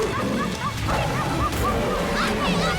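A pet dog in a family film gives repeated yipping barks, bright and close, over a dense background with voices mixed in throughout.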